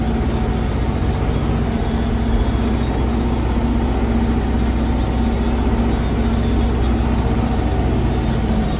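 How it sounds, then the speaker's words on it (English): A Cold War-era articulated tractor's engine running on a silage pile, a steady, loud low-pitched drone with constant rumble and no change in revs throughout, no talking. "I'm just not used to an articulated tractor."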